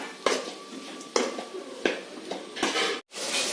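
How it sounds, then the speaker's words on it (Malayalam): A spatula clanks sharply against a pan every second or so while browned onions and chopped tomatoes are sautéed for a Kerala theeyal, with a soft frying hiss between the metallic strikes. "ഇപ്പൊ നമുക്കിനി നന്നായിട്ട് വശക്കി കൊടുക്കാം."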